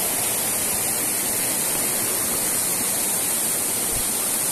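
Waterfall seen from its upper section in the Serra Dona Francisca mountains, a dense, constant roar of rushing water filling the whole stretch with no pauses and no voices.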